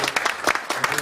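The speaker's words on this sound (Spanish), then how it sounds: "Les pido un aplauso entonces para Horacio Vico y Marcelo Pelle." A brief burst of conference audience applause, many hands clapping together in a dense, fairly loud patter with a voice faintly mixed in.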